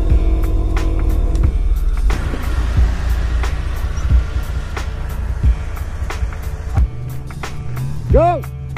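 Nissan Xterra stuck in mud, engine rumbling and revving steadily as it backs up on a slope, with a sharp rising rev near the end and occasional voices over the engine noise.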